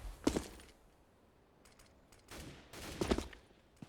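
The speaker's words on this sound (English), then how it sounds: "Some precautionary flashbangs coming in." Flashbang grenades in a professional Counter-Strike match on the Train map, ECS Europe, EnVy versus Virtus.pro: two sharp, booming bursts about three seconds apart, with quieter rattling game noise between them.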